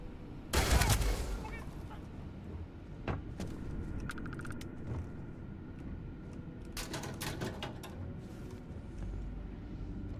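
Gunfire in the space shooter Starfield, with a loud burst of shots near the start, then scattered single cracks and a later rapid cluster over a low game ambience.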